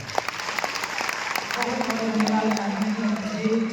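Applause from a crowd at a CSC Day event, starting with scattered claps and swelling into steady clapping, with a voice speaking over it partway through.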